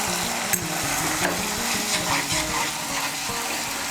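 Spice masala fries and is stirred in a pan, giving a constant dense sizzle close by with faint scraping and a few light knocks, no voices.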